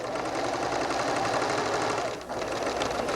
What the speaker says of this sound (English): Put my needle down and enter it right at the intersection and sew across these.